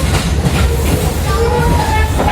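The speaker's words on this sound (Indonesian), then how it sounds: "Langsir lokomotif kawan." A locomotive shunting at Indro station, heard as a loud, close rumble of heavy rail wheels with clanking and a faint metallic squeal, rolling steadily without any voices.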